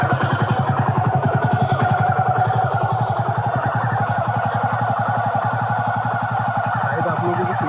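Jawa 42 motorcycle engine idling steadily after starting, a close, loud, even single-cylinder thump with a fast regular pulse that holds throughout.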